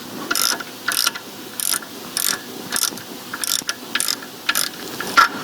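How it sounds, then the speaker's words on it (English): A ratchet with a deep socket tightens caps on a BMW engine, clicking in nine or ten short bursts at an even, repeated rhythm, close and clear over a quiet background with no talking. "I'm just going to pull these down using a deep socket."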